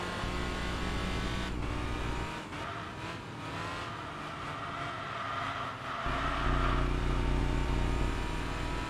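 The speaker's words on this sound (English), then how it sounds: "it's fun to listen to the rumble of the cobblestone under the tires" Steady engine drone in the racing game Enthusia Professional Racing, with a low, continuous rumble of tires over cobblestone, swelling louder toward the end.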